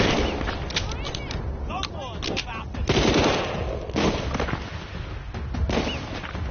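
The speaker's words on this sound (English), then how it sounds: "Double barrel shotgun." Double-barrel shotgun firing in the Walking Dead: Saints and Sinners game, a run of loud booming blasts amid chaotic combat noise, with voices heard faintly in the mix.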